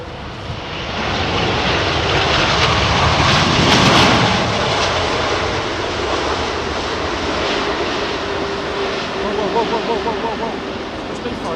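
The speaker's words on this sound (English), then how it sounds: "And now 2 reversers deploying here, only the inboard reversers." An Airbus A380 landing on runway 27R at London Heathrow with only its inboard thrust reversers deploying gives a loud, sustained broadband jet roar that swells around four seconds, then holds steady and close, with voices talking faintly underneath.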